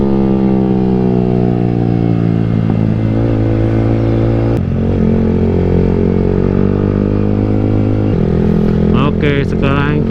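Yamaha R15 V3 motorcycle fitted with a Tridente F22 exhaust, loud and close, its engine note dropping in steps as it decelerates and downshifts, with a steady low rumble throughout and brief sharp pops near the end.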